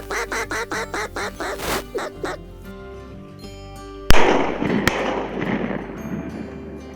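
A rapid run of about a dozen duck quacks during a waterfowl hunt in California's Central Valley, close and rhythmic, then a pause and two sharp, loud bangs a moment apart over a noisy outdoor background.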